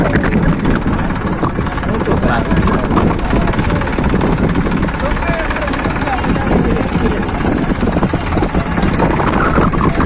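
Tractor engine running at a Sindhi tractor and camel rally in Mithi, Thar, a loud continuous rumbling drone close by, with voices talking over it.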